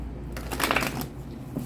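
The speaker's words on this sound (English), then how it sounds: "One more shuffle" Tarot cards shuffled by hand in one quick riffling burst, close and fairly loud, lasting about a second with no speech over it.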